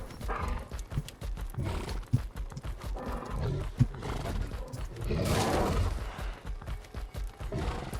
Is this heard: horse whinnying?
yes